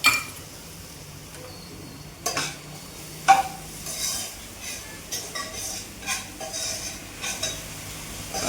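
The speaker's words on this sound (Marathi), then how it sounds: "मित्रांनो, आलं लसूण पेस्ट टाकते. मित्रांनो कांदा पण मस्त ब्राऊन झालेला आहे," Ginger garlic paste frying with browned onions in a pan, bursts of sizzling and stirring with occasional metal clinks of a spoon against the vessel, some louder spurts midway.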